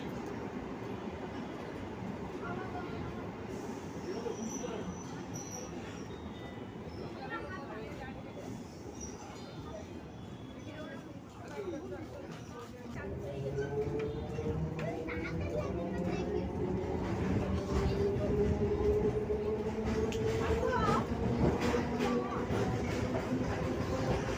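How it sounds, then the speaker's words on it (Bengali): A train pulls into the elevated Remount Road station in Kolkata, a rumbling rail roar that swells midway with squealing wheel and brake tones, while voices chatter faintly in the background. "আমাদের ট্রেন চলে এলো রিমাউন্ট রোড স্টেশনে"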